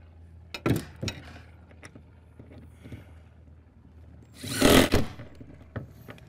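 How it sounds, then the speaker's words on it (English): An impact gun with a 7/16 deep socket drives a lag bolt into a plywood roof deck during flat tile installation, one loud, short rattling burst standing out from quieter knocks and handling noise. "We're using a 7/16 deep socket to drive with an impact gun to drive these lags down into the deck."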